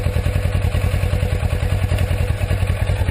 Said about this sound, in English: And to go back to neutral, you shift it up just a little bit.